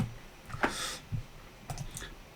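A handful of soft clicks and taps come from a computer keyboard, faint and scattered across a quiet room.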